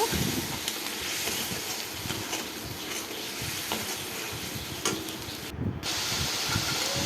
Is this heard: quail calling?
no